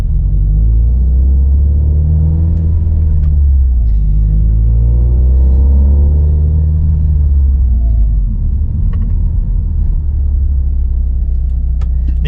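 Turbocharged Subaru STI with a stock-location turbo and hard 3-inch turbo inlet, engine revving steadily for about twelve seconds, loud and close, with a deep continuous rumble, swelling revs and induction noise, and no talking.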